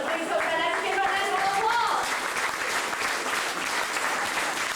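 A crowd at a Disney World studio show applauds steadily, dense clapping holding at an even level from start to finish, with some voices calling out near the beginning.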